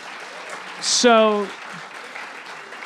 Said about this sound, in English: that applause says that that's all the love I need to express